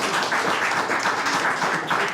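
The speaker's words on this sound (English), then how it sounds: "No, please don't clap between poems." An audience at a poetry reading at Hubbard House claps between poems, a dense, steady burst of applause filling the room for about two seconds.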